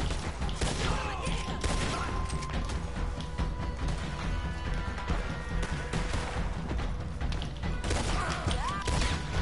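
Gunfire from a shootout in the video game Red Dead Redemption 2, a dense, continuous barrage of shots and impacts crowding the whole stretch with no clear gaps.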